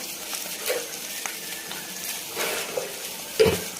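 A spatula stirs potato pieces and salt in a hot pan of potato bhaji, with a soft continuous sizzle and scraping, and one sharper clink of the utensil near the end.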